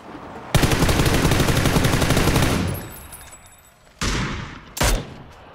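Rapid automatic gunfire in PUBG rattles loud and close in a sustained burst, then fades; two shorter bursts follow after a pause.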